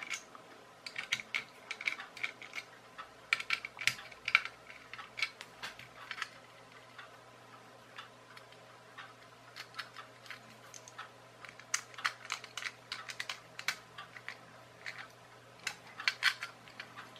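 A screwdriver loosens the terminal screws on a salvaged extension lead plug, giving quiet, scattered clicks and small creaks in irregular bursts against a near-silent background.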